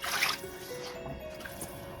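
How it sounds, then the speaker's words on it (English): Water is poured into a pan of fried spices to rinse it while cooking a breadfruit curry, making a brief, soft splashing trickle that fades to quiet dripping. "I'm going to rinse it with a little water and get it back."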